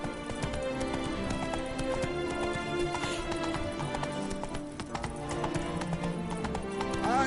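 Horse hooves clip-clop at a gallop in The Witcher 3, a rapid rhythmic pounding that runs throughout alongside game music, with a brief whinny near the end.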